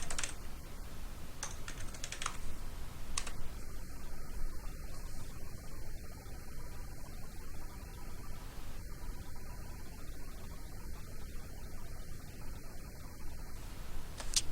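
Keys clatter on a computer keyboard in quick, irregular bursts with short pauses, close and moderately loud against a faint hiss, no speech.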